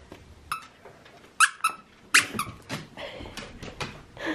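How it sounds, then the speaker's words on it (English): A dog's squeaky penguin toy, a Christmas gift, gives sharp high squeaks in quick irregular bursts at close range, with faint background noise and no talk. "Santa brought Buster and Hank a toy"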